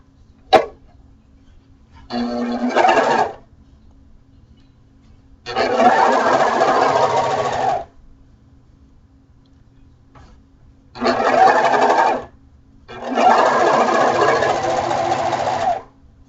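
A serger sewing machine stitches leggings in four separate runs, each a loud, fast mechanical whir lasting a second or two, separated by quiet pauses, with a sharp click near the start.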